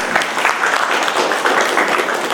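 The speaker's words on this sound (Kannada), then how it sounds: "ಅದಕ್ಕೆ ದೊಡ್ಡ ಚಪ್ಪಾಳೆ ತರಬೇಕು ಎಲ್ಲ." A dense, steady burst of audience applause fills a hall at a Kannada-language public gathering, many hands clapping loudly and evenly with no voices over it.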